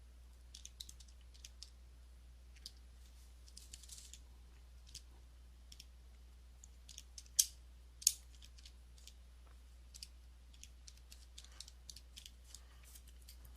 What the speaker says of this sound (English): type it in your calculator exactly the way you see it